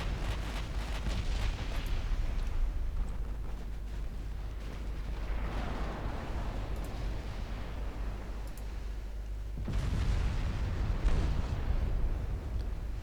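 Naval battle in Ultimate Admiral Dreadnoughts with a light cruiser's secondary guns firing: a dense, continuous rumble of distant booms and crackling bursts, swelling louder near the end.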